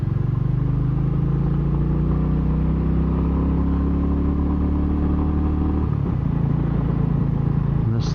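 A Royal Enfield Classic 350 motorcycle ridden at top speed along a Kentucky backroad, its engine droning loud and steady with heavy wind rush, then easing off briefly near the end.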